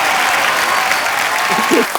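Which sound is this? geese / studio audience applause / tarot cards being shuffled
studio audience applause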